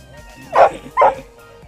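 A dog gives two short, loud barks about half a second apart, close by. Between the barks there is only quiet background.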